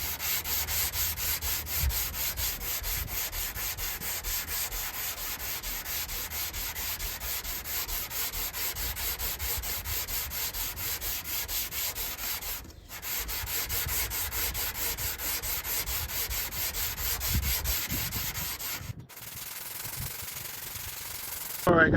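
Block sanding on a body panel of an 87 MK3 Supra drift car makes a continuous rhythmic rasping scrape with fast back-and-forth strokes, close and steady, broken by two brief pauses.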